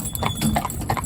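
A driving horse's hooves clip-clop in a quick, even rhythm of close, sharp strikes, with no talk over them.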